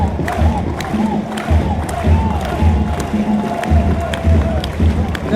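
A large crowd cheers and shouts at the India–Pakistan border, a dense, continuous roar of many voices with rhythmic chanting swells, fairly close and loud throughout.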